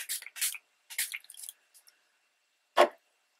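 A spray bottle filled with a half-alcohol, half-water mix gives several short hissing spritzes in quick succession, then a single sharper spray after a pause, close and fairly quiet with no talking.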